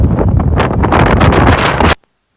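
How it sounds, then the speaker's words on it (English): Strong gusts batter a microphone outdoors on a windy stretch of the North Wales coast, a loud, rumbling roar lasting about two seconds before stopping abruptly into silence. "That was a very windy part of North Wales that day."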